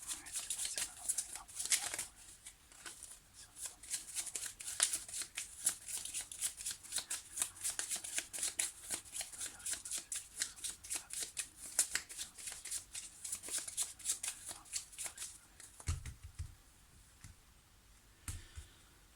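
Lenormand oracle cards are shuffled by hand at close range in a long run of crisp, rapid riffling flicks and soft slides, with a brief pause and a low bump near the end, and no talking.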